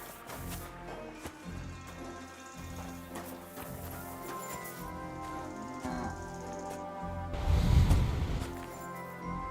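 Hooves of a horse clop steadily in a medieval video game setting, a moderate rhythmic trot with game music and ambience around it and a louder thump near the end.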